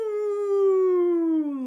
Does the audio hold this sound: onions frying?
no